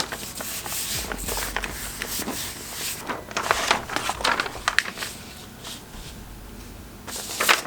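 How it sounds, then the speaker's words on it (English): Paper being rubbed and smoothed by hand onto a stencil mesh, with soft, irregular close-up swishing strokes that come and go without speech. "So now I'm ready to lay the paper down,"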